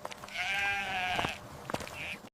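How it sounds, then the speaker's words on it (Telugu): A lost sheep bleats up close, first in one long wavering cry and then in a shorter call, with a faint soft sound between them. "అయ్యో, ఒక గొర్రె తప్పిపోయిందా?"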